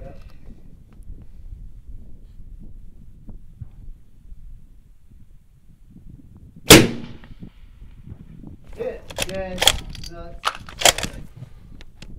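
A 6.5 Creedmoor rifle firing at about 1,032 yards on a long-range course: one sharp, loud crack stands out against quiet outdoor background, and voices are heard speaking afterward.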